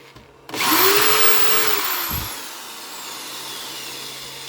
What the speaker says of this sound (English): But it'll start this drill okay